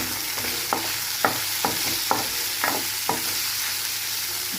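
Okra curry frying in a pan with coriander is stirred, a steady sizzle broken by a series of sharp spatula scrapes and taps at an irregular rhythm, close and fairly loud with no talking.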